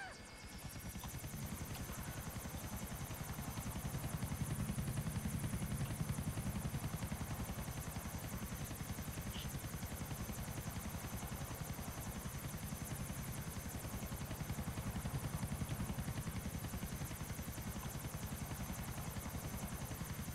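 Helicopter in the video game Grand Theft Auto IV: a continuous rapid rotor chop with a steady turbine whine, close and unchanging in level for the whole stretch, heard alone.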